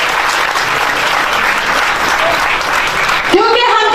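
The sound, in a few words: loud applause from congregation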